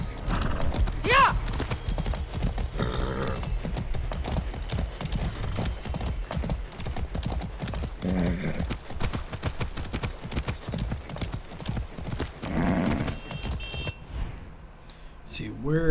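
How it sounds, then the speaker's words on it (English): Horse hooves gallop in the video game Far Cry 6, with rapid clip-clop beats running steadily and loudly, a neigh near the start, and someone talking over the hoofbeats. "That's a good horse."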